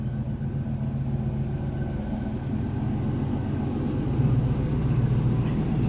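Steady low rumbling exhaust of a 1980 Pontiac Firebird with formula appearance packages, idling continuously and fairly close, with no talk over it.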